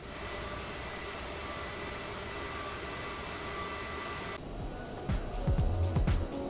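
The jet engines of an Aerosoft CRJ 550/700 idle in a flight simulator with a steady, loud whine and rumble. The tone changes partway through, and then several low thumps follow.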